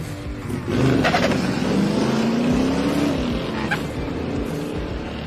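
Two drag racing cars, a 1979 Camaro Z28 and a Chevelle, make a pass at a drag strip, engines roaring up loudly at launch and droning on as they pull away into the distance.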